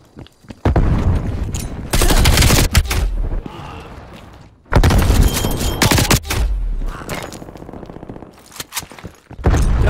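Grenade tossed and detonating amid a Call of Duty Black Ops Cold War firefight: loud booming blasts and bursts of gunfire come in two heavy waves, with near, dense crackling shots and a low thudding tail.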